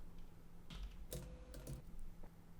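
Keystrokes on a computer keyboard while text is typed into a WordPress blog editor, a few close, quiet clicks in short bursts over a low steady room hum.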